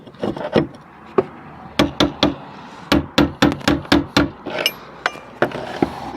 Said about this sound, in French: Alors là, pour coup, burin, marteau.